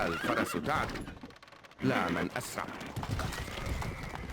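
A horse whinnies and hooves clip-clop amid battle noise in Stronghold Crusader HD, with someone talking over the game sounds throughout.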